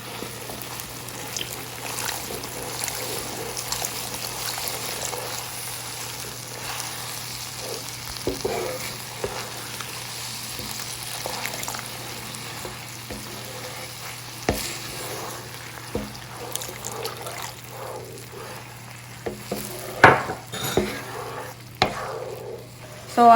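Chicken Manchurian sauce gravy bubbles and sizzles gently in a pan while a spoon stirs slowly, with occasional soft scrapes and clinks growing sharper near the end.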